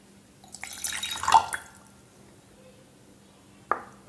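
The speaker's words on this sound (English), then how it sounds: "Now I am removing water from the tumbler" Water is poured out of a tumbler in a brief, soft splashing trickle, followed by a single small drip or clink a couple of seconds later, quiet and close with no talking.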